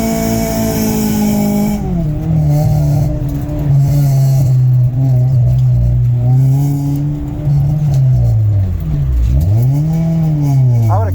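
A borrowed Acura Integra running an autocross course in Wisconsin: its engine revs steadily and loudly throughout, the pitch rising and falling with gear changes and throttle, with a sharp dip and climb near the end.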